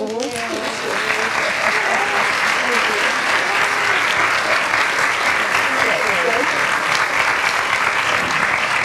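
Audience at a live-streamed talk applauding, a dense, continuous wash of clapping that holds steady and loud from start to finish, with a few voices faintly underneath.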